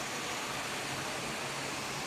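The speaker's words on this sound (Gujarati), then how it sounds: "પ્રાકૃતિક ધોધ છે આ." A natural rain-fed waterfall at the Mansa Devi temple in Rajasthan, heard as a continuous even rush of falling water, a steady broadband hiss with no voices.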